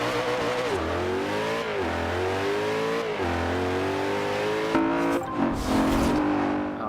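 A supercar engine in the racing game Forza Horizon 2 revs hard and climbs steadily through gears, each shift dropping the pitch before it rises again, loud and continuous, with tire noise near the end.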